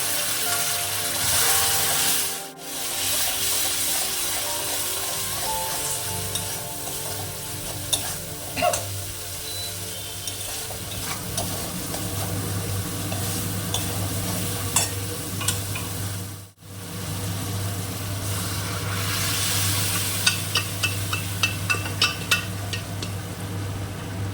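Continuous sizzling in a pan of fried spices for ghugni with stirring and scraping, a brief drop then a fresh burst of crackling as water hits the hot spices.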